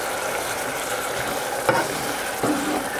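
Wet potato chips being stirred into mashed potatoes in a pan, a steady sizzling hiss with two brief scraping stirs of a utensil, close and moderately loud, no talking.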